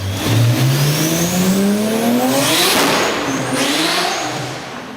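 Toyota Supra with a twin-turbo 2JZ engine revving hard, a loud, near engine note sweeping upward in pitch through a gear, then holding a raspy, busy roar with faint squeal-like overtones.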